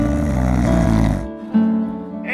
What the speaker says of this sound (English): snores and sneezes.